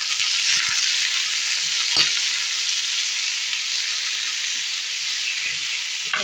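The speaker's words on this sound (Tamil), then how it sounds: "இப்போ வந்து தக்காளியை நல்லா வதக்கிடலாம்." Tomatoes, cooked with a little tamarind, sauté in a pan with a steady, even frying hiss that holds at constant loudness throughout. A faint clink is heard near the middle. No speech.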